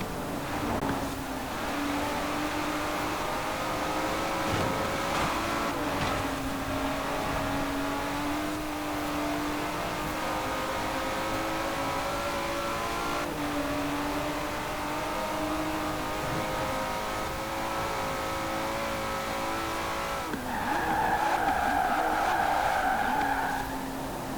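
A sports car engine in Forza Horizon 4 drones steadily with tire skids, rising to a higher revving whine near the end, alone without voices.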